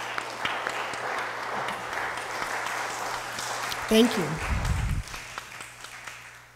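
Audience applause at a Sunday service at Althea Center for a reverend, a moderate wash of clapping in a hall with a brief spoken thank-you partway through.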